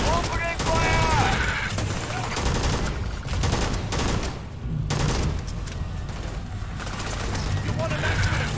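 Rapid bursts of gunfire in the video game Starfield during a fight with Crimson Fleet pirates, loud and dense volleys continuing throughout, with voices talking over the shooting.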